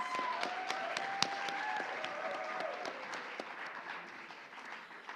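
Audience applause fills a scholarship pageant hall, steady dense clapping with a few sharper close claps and faint background voices, sustained throughout and tapering slightly.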